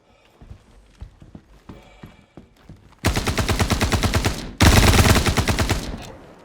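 Rapid automatic gunfire in the Star Citizen video game arrives in two long, loud sustained bursts after a stretch of faint clicks and taps, with no talking.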